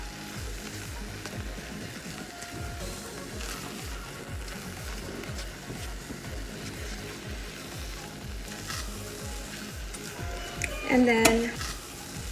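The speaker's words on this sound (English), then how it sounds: "So you just continue to stir." Churro dough of flour absorbing liquid is stirred in a hot pan, making a rhythmic scraping and soft sizzling throughout, with a brief spoken word near the end.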